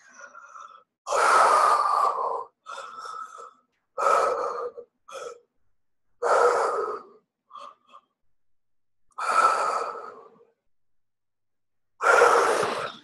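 Deep, forceful breaths drawn in and pushed out in a slow repeated rhythm, about six loud bursts with pauses between, close up and without speech, taken during a calming exercise of deep breathing while shaking the arms.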